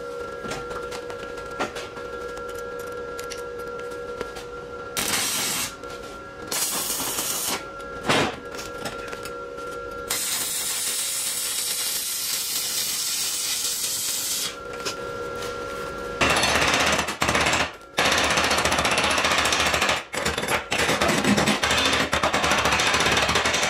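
Stick welding with 3.2 mm rods on a Synergic Autoplus 130 welder set near 120 amps, with harsh crackling arc bursts that start and stop in several runs before a longer, louder continuous stretch, over a faint steady electrical hum.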